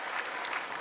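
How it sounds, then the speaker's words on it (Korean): A church congregation applauds during a Sunday service to welcome new members, a brief burst of steady clapping from a roomful of people. "박수로 환영하고 축복하겠습니다"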